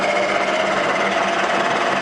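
A Lion milling machine runs at 500 RPM, giving a steady, continuous mechanical whirr with a fine rapid buzz that holds level and close throughout, with no one speaking.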